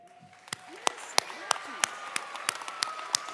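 Audience applause for students at a Dallas school district MLK Jr. oratory competition, with distinct sharp claps spaced out over the clip and a faint background voice underneath.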